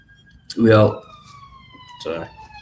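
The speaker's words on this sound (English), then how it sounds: "Ambulance." An ambulance siren wails faintly in the background as a thin, steady tone that drifts slowly downward, with two short bursts of nearby talk over it.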